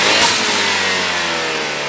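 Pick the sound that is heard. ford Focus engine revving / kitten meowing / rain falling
ford Focus engine revving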